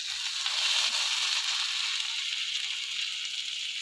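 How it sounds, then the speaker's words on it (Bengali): Onion frying in a pan while cooking Maggi pasta, making a steady close hiss of sizzling oil, continuous and even, with no voices. "এখন এই যে পেঁয়াজটা ভেজে নিচ্ছি"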